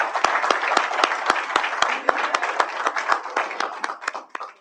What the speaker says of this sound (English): Let's give her one more hand,